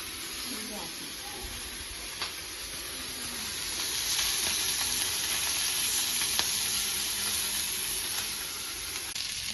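Bangude (mackerel) fish frying in a pan for a green chilly coastal-style fry, giving a steady, loud hiss and sizzle that holds throughout, with a few faint clicks and scrapes.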